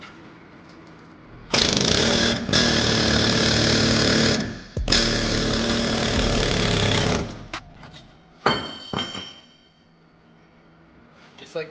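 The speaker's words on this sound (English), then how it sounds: "He's going to be putting pressure the opposite way as I'm air hammering this way." Loud air hammer driving a torsion key out of a 2014-19 GM 2500 truck, in two long sustained bursts broken by a brief pause, followed by a few shorter rattling hits and quieter workshop noise.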